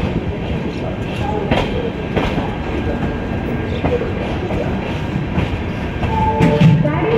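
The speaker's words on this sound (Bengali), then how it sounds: "শতাব্দী এক্সপ্রেস আজকে পুরী স্টেশন থেকে নির্ধারিত টাইমে অর্থাৎ 5:45 7 নম্বর প্ল্যাটফর্ম থেকে ছাড়ল।" The Puri to Howrah Shatabdi Superfast Express pulls out of Puri station, with a continuous rumble of rolling wheels and carriage clatter heard from on board, rising slightly as it gathers pace.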